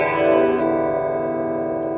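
A vintage Gallien Krueger 250RL bass amp plays on its clean channel with compression and stereo chorus, a sustained shimmering, wavering tone that rings steadily and loud throughout, with no talking.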